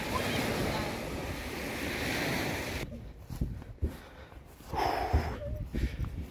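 Choppy waves on a lake in Saint-Gabriel, Quebec, wash loudly with strong wind buffeting the microphone, then drop abruptly to quieter lapping water with occasional knocks and splashes.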